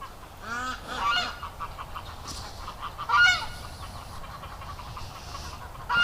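Geese honk in several loud, nasal bursts at close range, separated by short gaps over a few seconds of quieter outdoor background.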